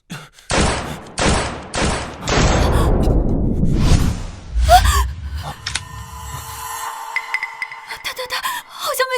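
Gunshots in a short urban drama fight scene: four loud, sharp bangs in quick succession up close, then a decaying rumble, a gasp and scattered clatter as action and voices continue.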